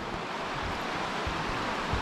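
Small rapids on a river near Ushuaia, a steady broad rushing of water filling the whole clip at constant loudness, with no voices.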